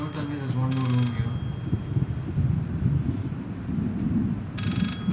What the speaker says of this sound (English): The phone's ringing, the phone's ringing, go back.